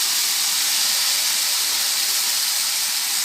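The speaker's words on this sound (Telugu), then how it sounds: "ఇప్పుడు పాలు వేసుకుందాం పాలు ఒక కప్పు పచ్చి పాలనే వేసుకుందాం" Raw milk hits a hot pan for coconut barfi, giving a steady, loud steaming hiss that holds evenly throughout with no voices.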